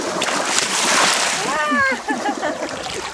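Something drops into water with a short splash and slosh, close and loud, while people chatter in German over it.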